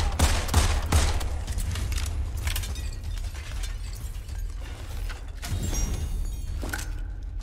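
Gunfire in the shooter game Immortal Redneck comes as sharp shots and clattering bursts, with mechanical reload clicks, loud and close over a rumbling game soundscape.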